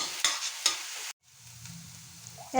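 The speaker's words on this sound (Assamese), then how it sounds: "এতিয়া মই পিঁয়াজখিনি অলপ সময় ৰঙচুৱা হোৱালৈ ভাজি থাকিম একেৰাহে" Sharp sizzling bursts of onions frying in a hot iron wok, a couple of stirring scrapes, then a quieter simmering hiss with a final clatter.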